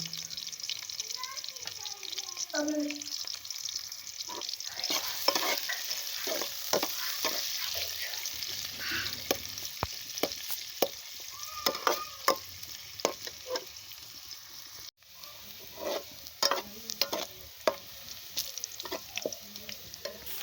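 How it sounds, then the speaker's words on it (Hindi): Onions sizzle and crackle steadily in hot oil with whole garlic cloves, with occasional stirring scrapes and clinks, heard close up with no one talking. "प्याज अच्छे तरीके से फ्राई हो चुके हैं"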